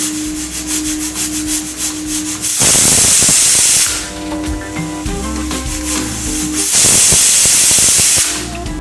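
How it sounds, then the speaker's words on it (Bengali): A pressure cooker of mutton curry on the stove lets out loud, sustained bursts of venting steam, two long hissing whistles separated by quieter bubbling and rattling, with no talk. "প্রেসার কুকারের ঢাকনাটাকে অফ করে দেবো আর সিটির জন্য ওয়েট করব"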